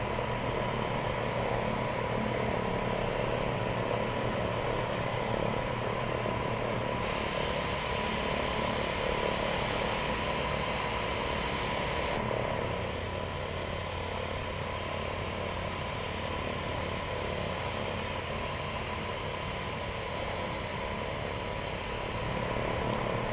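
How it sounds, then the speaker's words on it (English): A steady, droning propeller engine hum from an Embraer 110 twin turboprop taxiing at Bangor in the X-Plane 10 flight simulator, continuous and even throughout, with a slight shift in tone partway through. "let's go ahead and release the parking brake and taxi to the runway"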